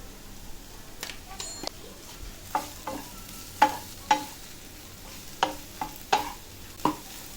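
Bharangi leaf vegetable being sautéed with chili powder, a spoon or spatula scraping and clinking against the pan in a dozen irregular strokes over a faint steady sizzle, fairly close, with no talking.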